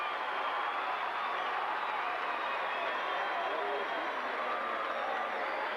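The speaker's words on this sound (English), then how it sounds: "the crowd gives him a standing O as he goes out to the bench" Basketball arena crowd giving a standing ovation as a player heads to the bench at a 1988 Mitchell vs. Brookings game, a steady dense wash of applause and crowd noise filling the whole stretch without letup.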